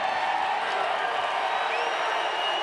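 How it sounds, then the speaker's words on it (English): Dense, roaring crowd at a Seattle Mariners baseball game against the Braves, cheering after a come-from-behind win; a steady, loud wall of voices and whoops fills the stadium without letup. "The crowd absolutely responds."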